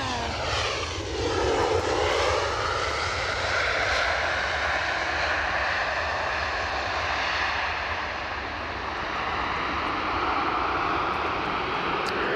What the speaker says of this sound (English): 2 Bombardier Challengers coming in.